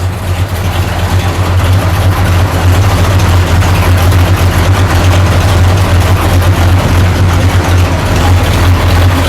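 A 1973 Plymouth Duster's deep, rumbling V8 idles steadily and loud up close through its dual exhaust, with a throaty exhaust burble throughout and no voices.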